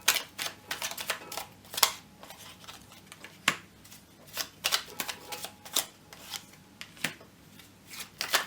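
Oracle cards shuffled and drawn for a reading, with repeated crisp riffling and slapping bursts spaced irregularly, fairly close and moderately loud, with no talking.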